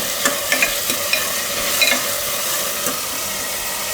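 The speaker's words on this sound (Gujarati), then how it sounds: "ટમેટાને થોડીક વાર પકાવી લઈશું" Tomatoes cooking in hot oil in a pan, a loud continuous sizzle with a few light spoon taps and stirring scrapes.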